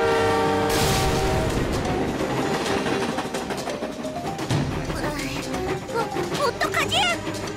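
Cartoon train rolling along with loud rhythmic clatter and a drawn-out horn blast near the start, with music and characters' voices over it throughout.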